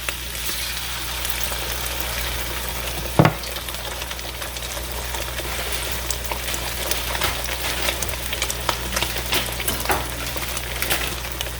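Eggs and onion fry in six tablespoons of oil in a pan, a steady dense crackling sizzle with a sharp clack near the start and scattered pops and stirring scrapes throughout.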